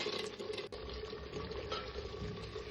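Mutton masala sautés in oil for a spicy mutton dish cooked in an earthen pot, making a continuous soft sizzle and bubbling with one brief clink partway through.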